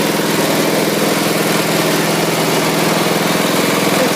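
A ride-on lawn mower with a freshly cleaned carburetor and new deck belt idles steadily after a cold start, its engine drone loud, close and continuous with no talk.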